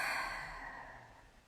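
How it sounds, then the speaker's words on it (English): A single soft, breathy exhale through open lips, a quiet sigh that fades out over about a second. "For greater release, open the lips for the exhale."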